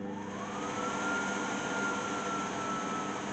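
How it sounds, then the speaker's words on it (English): A RAVAIR in-desk dust extractor runs with a steady motor whir and airflow hiss, holding an even level throughout, with a faint rising tone in the middle and no talk. "You can clearly see the dust going into the extractor, none going onto Tilly"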